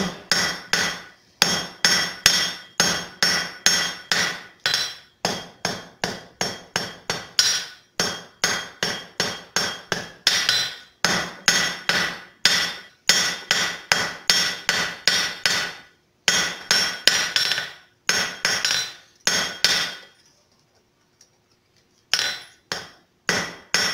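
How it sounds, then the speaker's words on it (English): Rapid metal hammer blows on copper ring out in quick, steady bursts, pausing briefly now and then before resuming, close and loud with no talking. "The side of my hammer as before. Draw that material out more."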